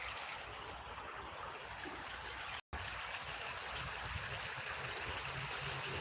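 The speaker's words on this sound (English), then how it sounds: "Early morning, ice cold creek water." Ice-cold creek water flows steadily in the early morning outdoors, a continuous broadband rushing and trickling that stays close and even throughout, with one very brief dropout midway.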